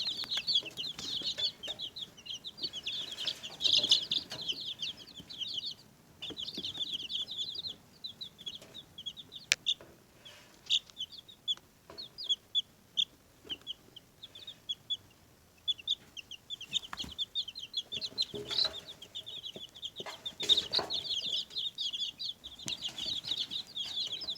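Chicks peep in a dense, continuous high chorus from a young homestead flock, with occasional soft clucks and wing flutters close by and a few sharp knocks, and no talking.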